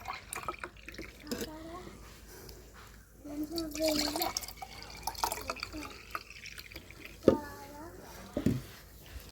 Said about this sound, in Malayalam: ഇത് ഞാൻ മറ്റുള്ള കുടത്തിലേക്ക് ഒഴിക്കുകയാണ്